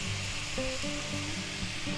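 Vienna sausages fry in a garlic and vegetable stir-fry, producing a steady, fairly quiet sizzle that carries evenly throughout.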